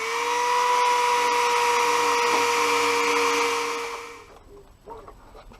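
A drill bit grinds steadily through a metal part on a Honda Bros (Hawk GT) motorcycle, a loud sustained whine with a strong tone that runs for about four seconds before winding down into a few faint clicks.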